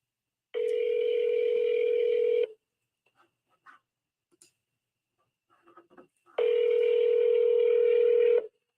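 A telephone keypad sounds two long, loud, steady tones about six seconds apart, with faint clicks and handling noise between them, while dialing for cold calls to cash buyers.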